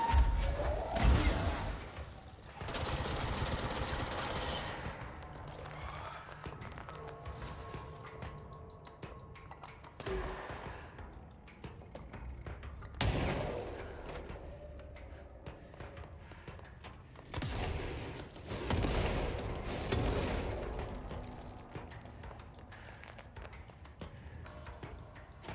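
Rapid automatic gunfire in the video game Control rattles in repeated loud bursts against enemies, set within a dense wash of game effects and whooshing impacts.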